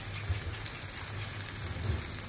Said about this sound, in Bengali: এবার আমি গরম পানি দিয়ে দেব।